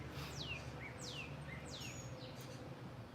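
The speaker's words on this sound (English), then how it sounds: "The birds are singing" Birds sing in a tropical backyard, a few repeated descending whistled calls at moderate distance over a faint steady outdoor background, with no one talking.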